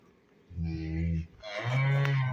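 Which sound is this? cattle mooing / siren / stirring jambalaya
cattle mooing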